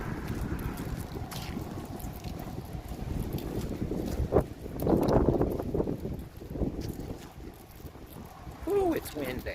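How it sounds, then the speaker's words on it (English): Gusty wind buffets the microphone with a steady low rumble that swells and fades, outdoors at a cemetery where committal services are held, while people talk faintly underneath. "Ooh, it's windy."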